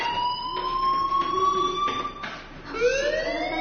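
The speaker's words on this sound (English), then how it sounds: "Hey, do you hear that fire alarm?" Electronic fire alarm in the video game Life is Strange, a loud, steady, near tone with a wavering pitch, sounding alone with no talk.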